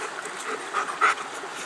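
A big dog pants in steady, quick breaths close by, continuous and moderately loud, with a brief louder huff near the end; no one speaks over it.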